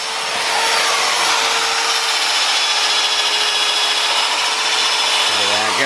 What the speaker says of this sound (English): Chipping all that slag off.